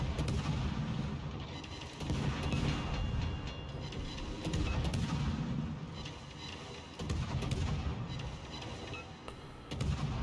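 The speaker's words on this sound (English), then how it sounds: "Shells coming in from the West Virginia." Naval gunfire and incoming shells in the World of Warships video game, with the battleship West Virginia firing: heavy rumbling booms recur roughly every two seconds over a continuous battle din, no voices.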